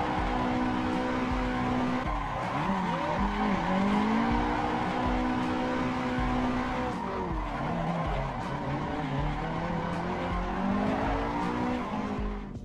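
A steady racing engine from a racing video game holds high revs while tires squeal and skid through a drift entry, continuous and loud with no talking.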